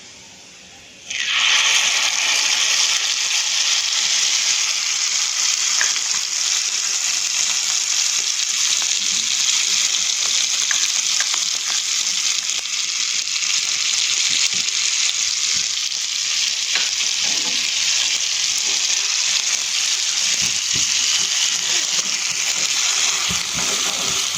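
Ground green chutney hits sizzling cumin in hot oil for a spicy Maharashtrian thecha: a sudden loud burst of frying that settles into a steady, close, crackling sizzle with faint stirring and no talk.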